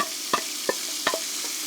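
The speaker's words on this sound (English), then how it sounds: "hear that sizzle" Steady frying sizzle of onions in bacon grease with a soft hiss throughout, broken by a few brief clinks and scrapes of stirring.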